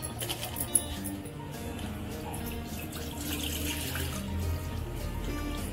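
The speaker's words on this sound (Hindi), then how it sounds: "ये देखिए हमने शरबत भी घोल के रख लिया है और इसको अब छान लेंगे" Sweet sharbat drink being strained and poured in a home kitchen during Ramadan, a steady liquid trickle and splash running throughout at moderate level over a low background hum.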